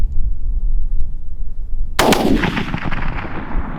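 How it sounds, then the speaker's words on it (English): A single loud rifle gunshot cracks out during a Virginia deer hunt, a sharp blast followed by a rolling echo that decays over the next couple of seconds, with no talk over it. "Shoot her again. Shoot her again."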